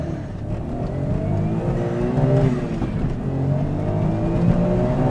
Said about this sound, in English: the turbo is right behind me making fun sounds all the time